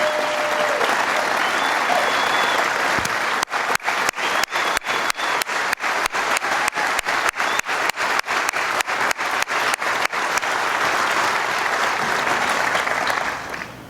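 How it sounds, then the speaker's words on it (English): A large audience at a Mike Pence speech in Saint Louis applauds military veterans, sustained loud clapping from a close crowd that holds steady and then fades at the end. "Would you join me in a round of applause for every man and woman here who's worn the uniform of the United States of America?"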